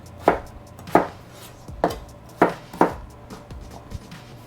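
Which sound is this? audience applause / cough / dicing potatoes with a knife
dicing potatoes with a knife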